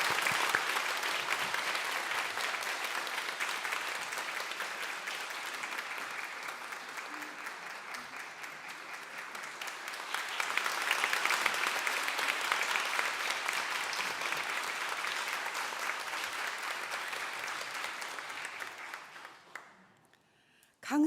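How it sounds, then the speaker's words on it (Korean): Church congregation at a Wednesday service in a Uijeongbu church applauding a missionary coming up to the stage, steady dense clapping that swells midway and then fades out near the end. "힘찬 박수 부탁드리겠습니다."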